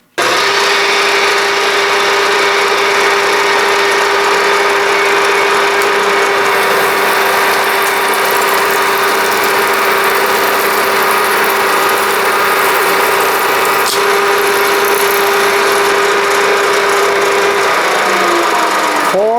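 A drill motor runs steadily while a split point drill bit bores deeper into a workpiece, a continuous high whine with a constant hum, close and loud, before winding down at the end.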